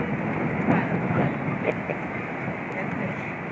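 A train rumbles steadily with broadband clatter and noise, close and continuous, while a voice talks faintly underneath.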